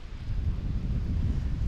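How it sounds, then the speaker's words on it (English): Gusting wind buffets over open water on a fall bass fishing outing, a steady low rumble of wind noise close against the microphone throughout. "We've got gusting winds"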